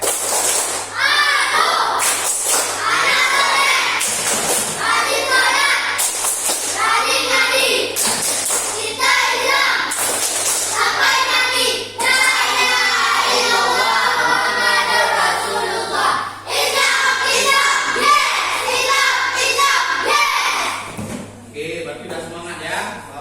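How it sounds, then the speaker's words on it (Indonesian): Schoolchildren in a classroom perform the 'tepuk anak soleh' chant, their loud voices in unison punctuated by rhythmic bursts of group hand clapping throughout. "Tepuk anak soleh."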